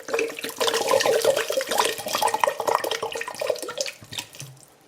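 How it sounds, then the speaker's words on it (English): Distilled water pouring steadily into a container of dried funori seaweed, a continuous splashing gurgle close up for about four seconds before tapering off, with no talking. "I put 1 liter of distilled water"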